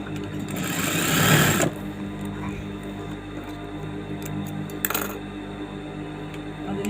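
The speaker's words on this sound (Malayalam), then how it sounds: "ഈ മെഷീൻ്റെ നീഡിലിൻ്റെ അടുത്തുനിന്ന് ഇത്രയും ദൂരത്തേക്ക് ഒരു ചെരിച്ചൊരു സ്റ്റിച്ച് ചെയ്യുക" A sewing machine runs in a fast, steady whir while stitching a slanted line on saree blouse lining, then stops and leaves a quiet hum with a brief click near the end.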